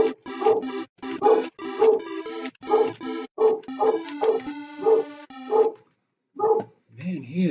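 A pet dog barks insistently indoors, with a rapid run of about a dozen evenly spaced barks, then a pause and a final few yips and whimpers. The barks are loud and close.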